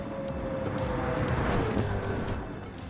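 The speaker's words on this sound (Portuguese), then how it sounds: "Tá vendo os carros chegando? É a BMW, aquele Toyota do mal" Race cars in Gran Turismo 7, including a BMW and a Toyota, roaring close by with a steady engine drone and a shifting whine as they pass, loud with no talk.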